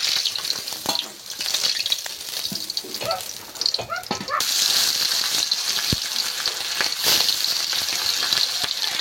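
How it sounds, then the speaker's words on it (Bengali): Fish frying in hot oil gives a loud, close, continuous sizzle and crackle that runs the whole time, with a brief dip in level near the start. "মাছ ভাজা হয়ে গিয়েছে, এবার কিন্তু তুলে নিচ্ছি"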